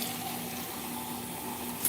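Water runs steadily from a bathroom sink tap as a child rinses after brushing teeth, a continuous close splashing flow with no talking.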